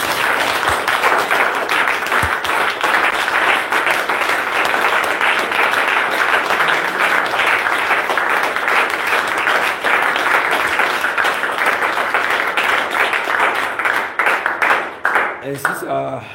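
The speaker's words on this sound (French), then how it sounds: "Applaudissons pour le Seigneur pour ça" A congregation at a French-language Bible teaching service applauds, a dense, sustained wash of many hands clapping that stays loud for about fifteen seconds and thins out near the end, with voices mixed into the crowd.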